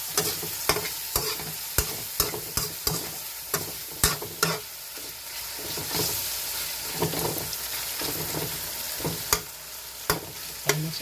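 Pork cubes sauté in a hot pan for ginisang monggo, a steady sizzle broken by frequent sharp scraping and clacking of a utensil stirring, close and alone.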